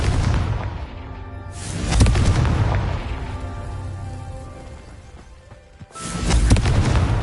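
Confringo blasting spell going off in a deep rumbling boom that swells, fades and then bursts again, loud and heavy with a long low tail.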